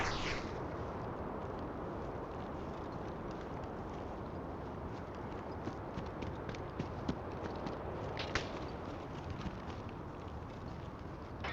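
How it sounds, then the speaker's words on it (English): Distant gunfire in Escape From Tarkov pops faintly and sporadically through a continuous low ambient rumble, with a few sharper cracks standing out toward the end. "we still hear lots of movement and gunshots ringing off in the distance"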